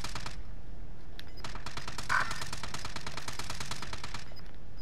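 Rapid automatic gunfire in a first-person shooter video game, loud sustained bursts of closely spaced shots with a brief pause early on, close and dominant.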